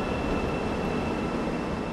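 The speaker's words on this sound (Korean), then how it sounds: "새로운 지하철이 들어옵니다. 서울역 방향으로 가는 전동차인데요." A subway train pulls into a station on a Seoul metro line heading toward Seoul Station, giving a steady loud rumble and rail roar with a thin high whine running through it.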